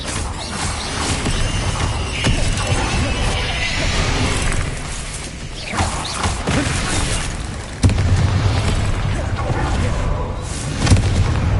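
A Bombarda explosion spell goes off in a Harry Potter video game amid loud, dense battle noise, with booming blasts and rumbling impacts, one heavy hit standing out midway, and voices shouting in the fray.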